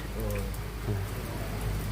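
Steady rain falls outdoors as a constant, even hiss of drops that fills the whole moment without pause or voices.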